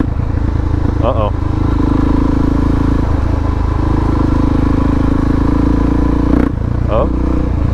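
Motorcycle engine running steadily throughout a ride, a loud continuous drone with wind rumble, while someone talks briefly over it twice.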